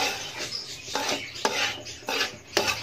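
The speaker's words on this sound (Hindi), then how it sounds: "मुसलसल इसमें चमचा चला रहा हूँ मैं" A spoon scrapes and knocks through a semolina and egg mixture toasting with coconut powder in a pan, about five distinct stirring strokes at an even pace, close and moderately loud over a faint frying hiss.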